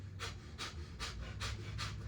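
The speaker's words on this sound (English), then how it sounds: "So it's diaphragmatic breathing from your nose. It's panting like you're a dog" Breath of fire: rapid diaphragmatic panting through the nose, five strong, evenly spaced huffs in a steady rhythm, close and loud with no talking.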